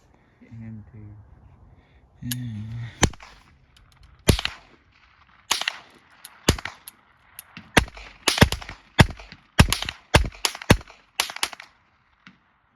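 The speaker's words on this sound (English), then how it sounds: "I'll shoot for the tail light, I think." Sharp gunshots fired at a truck tail light outdoors, a dozen or so cracks in an irregular rhythm, some in quick pairs, loud and close, with brief talk near the start.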